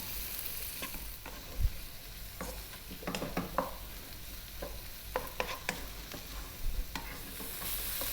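Sweet corn, vegetables, mushrooms or zucchini and oregano cooking gently in a pan, with soft sizzling and intermittent stirring scrapes and clicks from a utensil, moderately close and without any talking.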